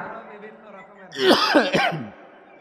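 A single short cough from a man preaching at an Islamic sermon, a brief throaty burst after a moment of quiet room tone.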